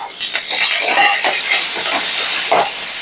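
Spices sizzle in hot oil for South Indian tempering: asafoetida powder, a red chili, a green chili, ginger and curry leaves. A loud, close hiss comes with crackling bursts and pops throughout, with no voices.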